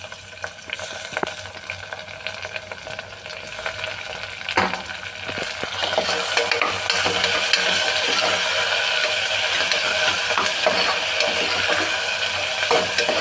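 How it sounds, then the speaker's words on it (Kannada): Onion and tomato fry in oil in a pan, a steady close sizzle that swells louder partway through as the vegetables are stirred, with occasional scraping clicks and no voices over it. "ಈರುಳ್ಳಿ ಗೋಲ್ಡ್ ಕಲರ್ ಬರೋ ತನಕ ಫ್ರೈ ಮಾಡಬೇಕು ಎಣ್ಣೆನಲ್ಲಿ."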